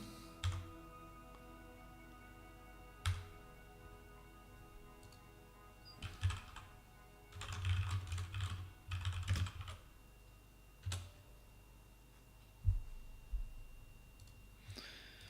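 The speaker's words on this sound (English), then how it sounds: "when I'm typing" Computer keyboard keys clatter in short, close bursts of rapid typing, separated by isolated single clicks and quiet pauses, against a soft steady background hiss.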